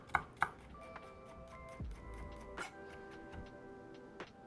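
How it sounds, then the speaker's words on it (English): A knife mincing garlic on a cutting board taps in faint, sparse, irregular chops, a couple of sharper knocks near the start, against a quiet background with a faint steady hum. "mince up some garlic as well"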